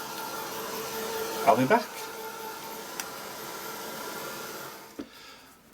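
A heat tool blows steadily while drying the painted background of a mixed media art journal page, a continuous whirring hum running through the clip under brief talk before it cuts off near the end.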